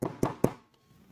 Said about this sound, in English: Hear me hammering.